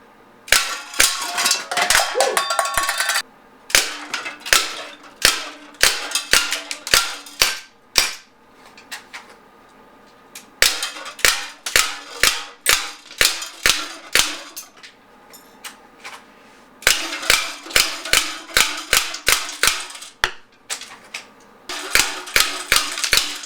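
A Beretta Px4 Storm Recon 4.5mm pellet gun empties its magazines in long runs of sharp, loud, close pops at a steady semi-automatic pace, broken by brief pauses between strings, with no talking.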